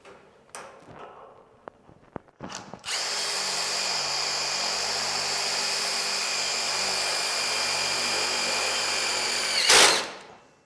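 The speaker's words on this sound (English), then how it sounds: "I'm just gonna put in a self-tapping sheet metal screw." A power drill whines steadily and loudly for several seconds as it drives a self-tapping sheet metal screw, then stops abruptly after a final rising burst.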